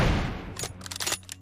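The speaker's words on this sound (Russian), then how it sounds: "Если я включу эту функцию, то я зажму кнопку прицел, и когда я ее брошу, произойдет выстрел" Gunshot in PUBG Mobile: a loud boom at the start that decays, followed by a rapid cluster of sharper cracks, with no talking.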